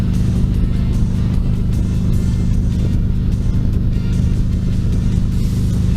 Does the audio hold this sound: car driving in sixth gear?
yes